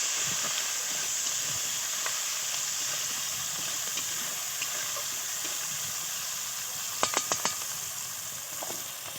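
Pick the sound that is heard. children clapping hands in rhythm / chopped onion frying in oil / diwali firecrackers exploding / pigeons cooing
chopped onion frying in oil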